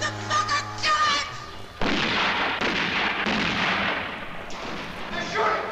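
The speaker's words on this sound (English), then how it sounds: "They're shooting!" Heavy gunfire erupts after a brief burst of shouting, a dense run of loud, close booming shots and blasts lasting several seconds.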